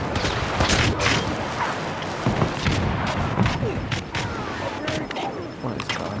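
Rapid gunfire from the Killzone Mercenary shooter game on PS Vita, dense bursts and single shots rattling continuously throughout, loud and close, with busy battle noise filling the background.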